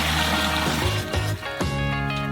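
Water pours steadily into a large pot while crayfish are prepared for boiling: a continuous close rush and splash that dips briefly mid-pour and then carries on.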